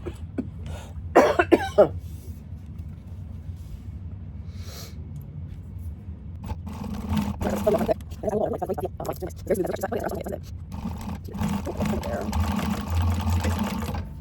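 Sewing machine top-stitching the side piece of a candy bag, bursts of rapid mechanical running broken by pauses, with a cough and someone talking over parts of it.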